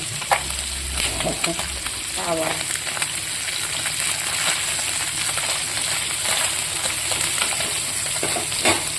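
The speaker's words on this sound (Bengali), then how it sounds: "মাছটাকে এভাবে লাল লাল করে ভেজে নেব" Fish fries in a pan until reddish-brown, giving a loud, steady sizzle of hot oil with occasional stirring scrapes throughout.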